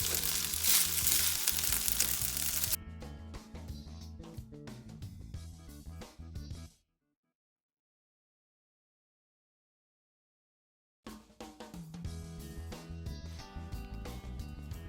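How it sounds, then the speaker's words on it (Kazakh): Washed rice fries in a little oil in a pan, giving a steady close sizzle with stirring clatter, broken by several seconds of total silence before the frying resumes. "5 минуттай қуырып аламыз."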